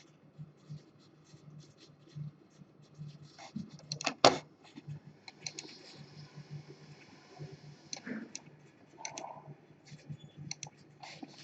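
Scattered light clicks of a computer mouse sound close and faint, occurring at irregular moments among other soft scratchy desk noises.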